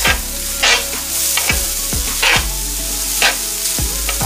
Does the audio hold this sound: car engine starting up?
no